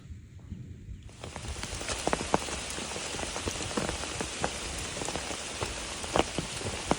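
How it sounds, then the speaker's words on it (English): Rain falling steadily on the Appalachian Trail, a loud close wash of drops with sharper individual taps, starting abruptly after a second and continuing without any voices. "Rain again."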